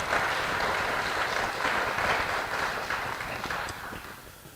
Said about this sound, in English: we should give a round of applause for the In the Trenches Ballad employees